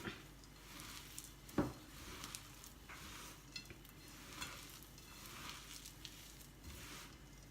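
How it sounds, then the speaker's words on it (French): Dough mixture being mixed by hand in gloves, soft squelching and rustling strokes repeating irregularly at close range, quiet overall with one sharper knock early on. "Maintenant on va bien mélanger le tout."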